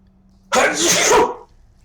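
One loud, sharp human sneeze bursts out close to the microphone during a tabletop role-playing game session, lasting about a second against a quiet background.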